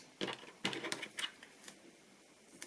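Paper being cut by hand for a scrapbooking mini album, a quick series of sharp, crisp snips and slices, close and fairly quiet, with short pauses between cuts.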